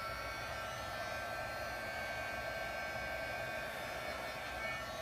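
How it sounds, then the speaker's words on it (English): A heat gun blows a constant, loud airy roar across alcohol ink on Yupo paper, steady and close for the whole stretch with no talking. "Now I'm going to get my heat gun. We're going to push some of this around a little bit."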